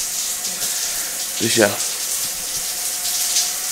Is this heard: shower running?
yes